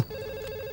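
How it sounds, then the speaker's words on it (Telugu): A short burst of an electronic phone ring, a steady warbling tone heard alone at moderate volume, cut off abruptly. "ఇక్కడ పక్కన రింగ్ అవుతుంది."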